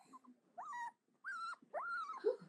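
A dog whimpers in three drawn-out, whining cries with a short growl at the end, quiet and close with brief silences between.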